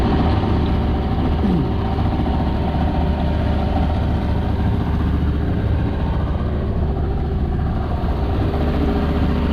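A steady, low engine idle rumbles continuously with constant loudness, a cabin boat motor ticking over on the Breede River, with no voices.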